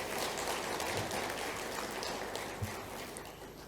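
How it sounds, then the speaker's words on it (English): Sustained audience applause at an annual international conference as the crowd claps for the event's sponsors, a dense, steady wash of clapping that holds level and then tapers slightly toward the end. "So big round of applause to all our sponsors"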